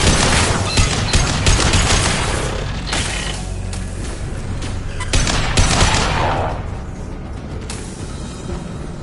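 Dense video game firefight with heavy bursts of automatic gunfire and explosive booms, loud and close, firing in waves that ease off toward the end.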